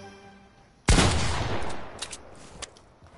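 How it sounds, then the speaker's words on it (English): A loud shotgun-style blast in a video game, a single heavy boom followed by a sustained noisy wash and a few fainter pops trailing off. "I'm gonna practice my shotgun shots"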